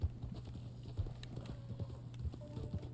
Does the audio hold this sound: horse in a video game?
yes